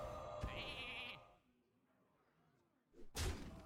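A sheep bleat from the Polymorph spell in the card game Hearthstone sounds as a brief bright burst over game effects, then fades before a loud thud-like slam near the end.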